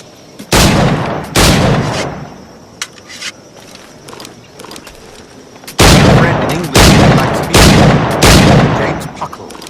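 Loud, sharp firearm blasts ring out in Assassin's Creed Black Flag, first two shots, then a quieter stretch, then a rapid cluster of several booming shots close by.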